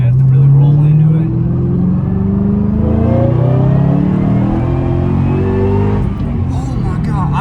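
Supercharged car accelerating hard through the gears on a curvy road, a loud continuous engine roar with rising harmonic tones that sweep upward through each gear and drop briefly near the end.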